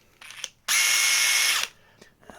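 A Dewalt DCF845 impact driver runs in one steady, high whirring burst of about a second, close and loud, with quiet handling clicks before and after.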